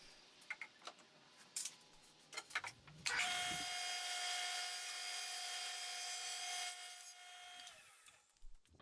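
A power saw cuts wood for the base of a speaker shelf, a loud steady whine lasting about five seconds after a few scattered knocks and scrapes, then spinning down.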